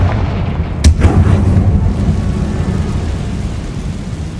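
A Confringo blasting spell explodes in the Hogwarts Legacy video game with a loud, sudden booming blast that rolls off into a long, low rumbling decay, heard alone with no talk.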